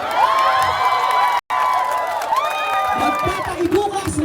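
Crowd at a live comedy show cheering and shouting with high whoops and excited voices, applause mixed underneath, loud and close with a brief dropout partway through.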